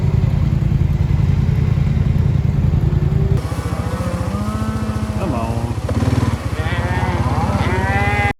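Cattle being moved out to summer range, with a horse and rider gathering stragglers; several moos ring out near and far over a steady engine drone, while voices speak intermittently in the background.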